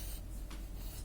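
A pen scratches across paper in short, faint strokes, close by with no talking, part of a written grammar lesson.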